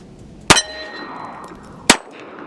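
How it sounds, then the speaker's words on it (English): Two sharp, loud reports from a Girsan MC1911C .45 pistol, spaced about 1.4 seconds apart, each with a brief metallic ring trailing off against quiet outdoor background. "we're gonna just go ahead and pump some more rounds out and see how she does"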